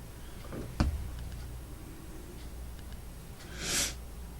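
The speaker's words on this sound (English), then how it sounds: "Sniffle, sniffle." One quick, breathy sniff stands out near the end of an otherwise quiet stretch, with a sharp click earlier on.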